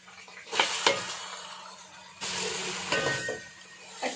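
Finely chopped onions go into a hot pan and fry, the soft sizzle rising into a fuller, louder hiss partway through, with occasional scrapes and knocks of a utensil against the pan.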